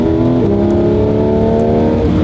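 A Porsche GT3 RS engine revs hard while drifting, a loud close harmonic howl rising and shifting in pitch across the whole clip, alone without speech.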